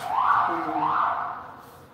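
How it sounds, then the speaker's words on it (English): An emergency vehicle siren wails on a New York street, two rising-and-falling sweeps that sound fairly close and loud before fading as it passes. "there goes another siren"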